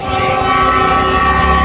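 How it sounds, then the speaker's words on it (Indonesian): The Argo Wilis passenger train in Indonesia rumbles loudly past, its steady roar filled with sustained horn-like tones, close and continuous throughout. "Selamat jalan kereta api Argo Wilis, semoga lancar sampai tujuan."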